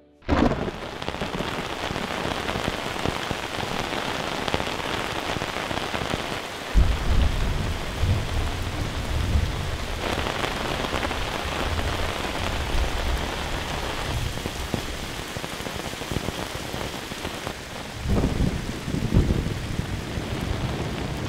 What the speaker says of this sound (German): Das Gewitter scheint über uns zu sein.